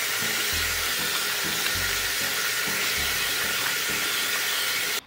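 Lemon and orange rinsed under a steady stream of cold tap water, a continuous broadband splashing hiss with faint low knocks now and then, close and even throughout.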